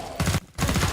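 Rapid gunfire in a zombie shooter video game: two short, loud bursts of repeated shots separated by a brief gap, close and punchy.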